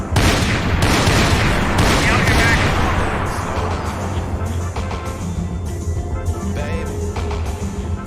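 Dense gunfire in a video game shootout: rapid bursts and overlapping shots, loud and close at first, then thinning into scattered fire, with voices talking over the action.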